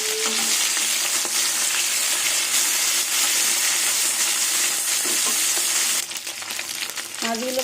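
Flipped tengra fish frying in oil, with a strong continuous sizzle broken by scraping stirs. The hiss dips briefly near the end, and faint voice-like tones come through now and then.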